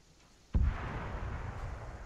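A single distant explosion in Arma 3 booms out of a quiet background, a sudden low thud followed by a long rumbling tail that fades slowly.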